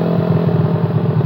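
A Suzuki Satria FU motorcycle with a 155 spec engine and modified carburetor setting idles loudly up close, a steady rough throbbing putter with a fast even pulse.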